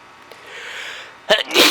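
A single loud sneeze, a quick sharp intake followed by an explosive burst, over soft steady background hiss during a thunderstorm.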